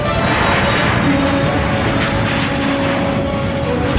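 A fully loaded cargo plane takes off with a loud, steady engine roar that holds constant and close throughout, with a faint hum running beneath.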